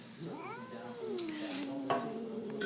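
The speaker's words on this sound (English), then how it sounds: "this isn't my cat from hell" A house cat lets out a drawn-out, wavering yowl, a single long rising-and-falling cry heard close indoors, with faint clinks of dishes in the background.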